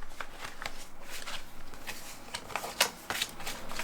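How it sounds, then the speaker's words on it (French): Tarot cards being shuffled by hand, a close, continuous papery riffle and slide of the deck with quick flicking bursts, alone without speech. "Pourtant je les mélange les cartes."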